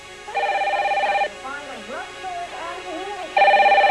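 Landline telephone ringing on an unanswered call during a home gas leak emergency, two loud trilling rings separated by a pause with a voice talking in between.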